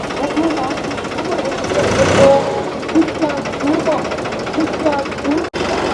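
A 2511 tractor pulls a loaded trolley, its diesel engine chugging and labouring steadily close by, with people talking over the continuous rumble.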